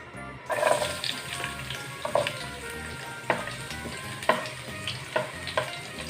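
Garlic fries in a pan for miki soup, giving a loud, continuous sizzle with crackling bursts and a few sharper spits recurring every second or so, close and without talk.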